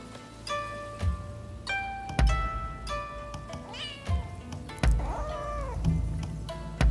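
In the video game Rise of the Ronin, a cat with a loud bell meows repeatedly, several distinct drawn-out cries and caterwauls close by, set between sharp thumps and clicks of game sounds, with no talking.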